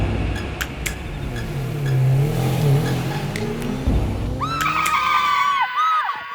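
A doctor's car passing along a road, engine sound swelling and revving as it goes by, then bright squealing tones near the end, loud and close with no talk.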